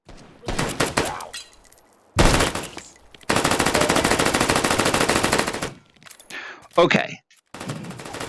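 PDW gunfire in the VR shooter H3VR: close, loud bursts of automatic fire, including one long sustained burst, separated by short gaps and a few clacks of handling, with a brief spoken word between bursts.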